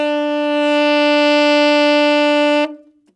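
A tenor saxophone holds a single sustained high E, steady and loud for over two seconds before cutting off cleanly into silence.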